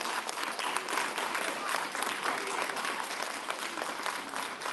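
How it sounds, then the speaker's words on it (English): An audience at a youth symposium gives steady, sustained applause, a dense wash of clapping from a full room that holds at even loudness throughout. "give him another round of applause and give him all the way around"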